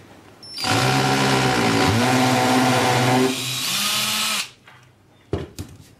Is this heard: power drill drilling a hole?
yes